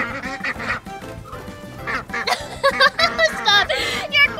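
Fuzzy ducks on a farm quack in a lively run of nasal calls that grow busier toward the end, mixed with bright, cartoon-like voices and music.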